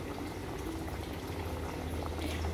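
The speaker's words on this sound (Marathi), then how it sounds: "चिकनला आता उकळी येते, हे छान शिजलं की मग आपण त्याचे लेअर टाकून घेऊया." Chicken curry for dum biryani boils in a pot, a soft, steady bubbling and simmering that stays faint and even throughout, with no voices.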